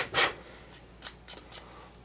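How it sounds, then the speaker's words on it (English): Sandpaper rubs across the hacksaw-cut end of an Easton Axis arrow shaft in five short, separate rasping strokes, close and fairly quiet. "And we'll just sand it off."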